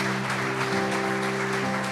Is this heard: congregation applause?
yes